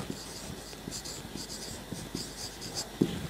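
Pen or chalk writing a fraction by hand during a Bengali maths lesson on ratios of constant terms, giving soft, faint scratchy strokes in a steady rhythm with a sharper tap near the end.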